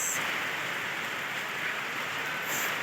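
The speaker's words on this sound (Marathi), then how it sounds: "निम्म्या रस्त्यातच आम्हाला पाऊस लागला आहे हे बघा किती सारा पाऊस आहे" Heavy rain falling on the road to the Jakhni Mata temple near Palampur, Himachal Pradesh, a dense, steady hiss of rain close by, continuous and fairly loud with no talking.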